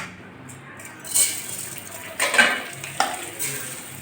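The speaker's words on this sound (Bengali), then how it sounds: "ধুয়ে ঝরঝরে করে নিয়েছি চালগুলো দিয়ে দিচ্ছি" Washed gobindobhog rice tipped into hot ghee in a metal wok: a few quiet scrapes and sharp clinks of a utensil against the pan over a soft background hiss.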